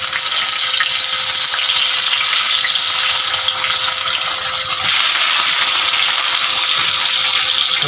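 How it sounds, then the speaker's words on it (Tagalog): Hotdogs fry in a pan with a loud, constant crackling sizzle that carries on unbroken for the whole stretch, with no voices. "Unang salang, hotdog."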